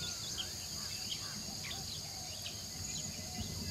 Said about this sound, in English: Insects, the variety of their forms is staggering.